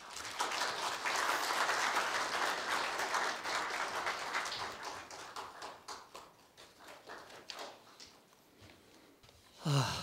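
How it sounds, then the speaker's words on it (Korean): Applause from the audience at a university staff retirement ceremony, a broad steady wash of many hands clapping that fills the room, then thins out and fades toward the end. "다같이 지준용 차장님을 큰 박수로 맞이하여 주십시오."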